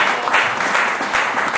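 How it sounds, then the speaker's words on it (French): A church congregation applauds together, a dense and steady wash of many hands clapping up close, with no break through the short stretch. "est-ce qu'on peut acclamer le Seigneur pour cette parole?"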